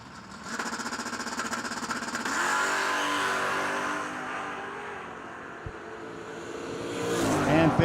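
Drag race cars launch side by side, a Mustang against a long roof wagon, their engines roaring loudly and revving hard for several seconds, with a surge of engine noise near the end.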